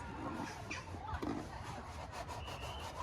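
A small hand awl pierces drainage holes straight through the bottom of a plant pot before sowing carrots, giving close scratchy rasping and scraping bursts that continue steadily throughout.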